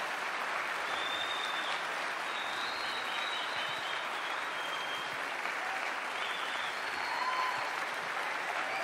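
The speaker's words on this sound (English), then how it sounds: "Please, will you give him a really great round of applause." An audience at an evening speaking event gives a long, steady round of applause as a speaker is welcomed to the stage, a dense, even clapping wash with no break and a few faint cheers.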